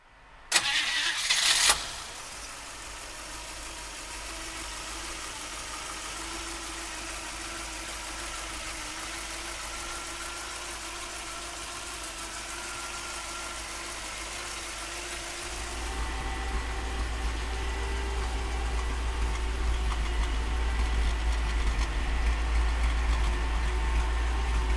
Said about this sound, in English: we're gonna fire it up for you right now